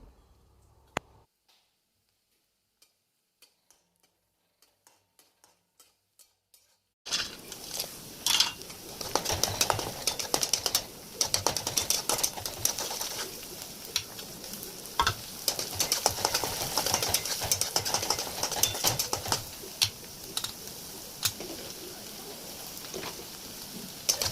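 Onion, peanuts and turmeric frying in a pan for poha, first near-silence with a few faint ticks, then a steady close sizzle and crackle broken by clicks of stirring, with no voices.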